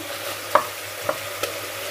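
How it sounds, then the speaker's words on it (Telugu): Chicken fries over high heat in a pan, giving a constant sizzling hiss and three distinct clicks of a spoon stirring against the metal, with no voices. "కొంచెం హైలో పెట్టి మనం ఇలా ఫ్రై చేసుకోవాలి"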